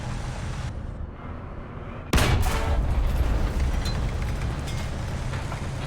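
A ZTZ96 tank cannon fires in War Thunder, one sudden, loud, deep boom that rings out and rumbles away over continuing engine noise.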